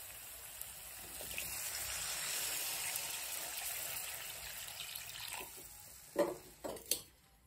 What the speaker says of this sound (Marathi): आता याच्यात पाणी टाकून घ्यायचं